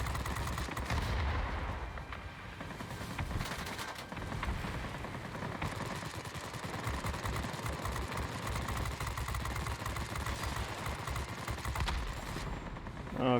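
Dense, sustained gunfire and artillery-like bursts batter an aircraft during a video game air battle, a loud continuous barrage of rattling impacts and engine drone with no letup.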